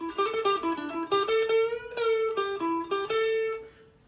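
Fast electric guitar lick from a 4/16/1972 solo, a quick run of bright picked notes racing up and down a scale, close and clear, alone without talk.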